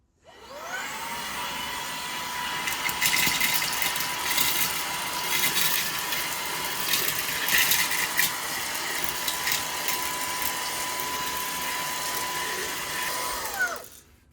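A Fanttik V10 Apex cordless vacuum starts up and sucks up spilled granola, a loud steady whine holding for about thirteen seconds with rattling bursts as the bigger pieces are pulled in, then cutting off. Nobody speaks.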